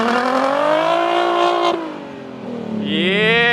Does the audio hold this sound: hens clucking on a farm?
no